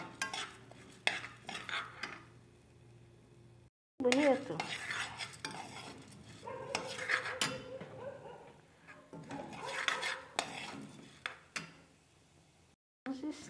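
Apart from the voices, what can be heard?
annatto seeds frying in oil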